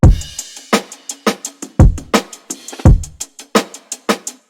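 A boom bap drum loop with a simple bounce: punchy kicks and snares in a steady groove, with hi-hats, an open hat and a cymbal ticking between them, loud and close, with no voices.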